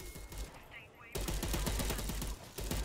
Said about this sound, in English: this gun is hard to control